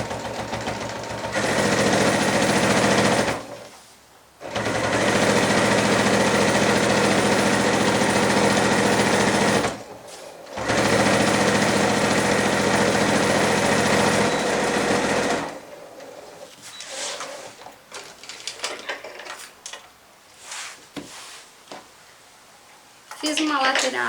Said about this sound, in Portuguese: E vamos passar aqui uma costura de um pezinho de máquina.